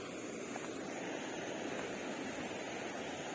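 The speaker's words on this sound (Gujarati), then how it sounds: "મસ્ત પાણી પડતું છે" Water cascades over black rocks at a forest waterfall, a continuous broad rushing roar heard steadily and fairly close with no voices.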